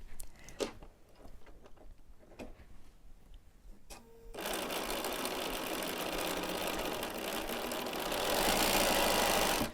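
Sewing machine stitching two fabric squares placed right sides together runs in a steady, fast rattling whir that starts abruptly after a few soft handling clicks and continues loud and close to the end.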